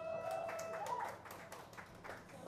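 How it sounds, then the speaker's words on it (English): Audience clapping at a beverage brand launch event, a steady patter of many hands sustained for a couple of seconds at moderate volume, with a faint tone in the background. "A round of applause, please."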